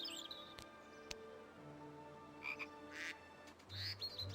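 A chocolate frog croaks in the Harry Potter and the Chamber of Secrets video game, giving a few short, distinct croaks among light chirps and soft game sounds, fairly quiet and with no speech.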